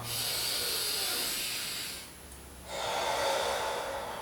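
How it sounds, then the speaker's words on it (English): Slow, deep yoga breaths, a long airy inhale, a short pause, then a strong exhale through the nose and mouth, close and alone with no talk. "Deep breaths, breathe in, breathe out."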